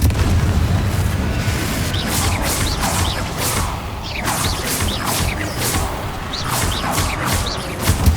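The Confringo blasting spell in Hogwarts Legacy, a dense, loud run of booming impacts and whooshes with crackling bursts layered over a constant rumbling game soundscape.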